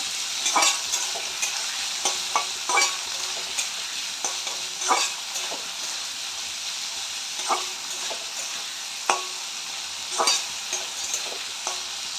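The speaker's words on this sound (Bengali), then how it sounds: "দিয়ে দিচ্ছি টমেটো আর দিচ্ছি লঙ্কা। এগুলো দিয়ে একটু ফ্রাই করে নিতে হবে এটাকে।" Tomatoes, green chillies and capsicum sizzle in a hot pan for a paneer roll filling, with a steady frying hiss broken by frequent clinks and scrapes of the stirring spoon, close up.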